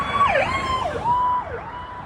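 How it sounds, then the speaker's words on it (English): Emergency sirens wailing outside on a Monday morning, a rising and falling tone sweeping repeatedly, moderately loud over faint background traffic with no talking. "There's always sirens going on around here"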